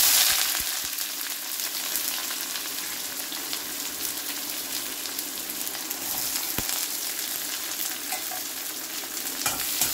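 Onions sizzle and fry in hot oil while being stirred for a Bengali fish-head muri ghonto, a dense, steady crackling hiss with occasional sharper pops and no talk.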